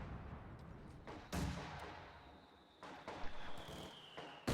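Mortar and artillery fire in a strategy video game battle: a few sharp, booming blasts with rumbling tails, fairly faint overall, with no talk.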